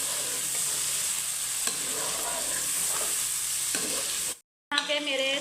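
Chicken and potatoes for aloo gosht being stir-fried in a pan, a steady loud sizzle with scraping stir strokes throughout, then a brief cut to silence before the frying resumes.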